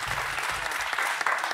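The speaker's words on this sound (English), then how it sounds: "cue the applause" A burst of crowd applause rings out as a sound effect, dense and steady clapping that stays loud throughout the short stretch.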